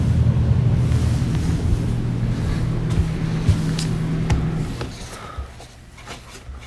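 The air conditioner of a 2022 Jayco North Point 340CKTS fifth-wheel RV runs with a steady, low, fairly quiet hum and airflow hiss that eases off slightly near the end.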